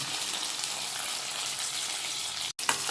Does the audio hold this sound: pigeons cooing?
no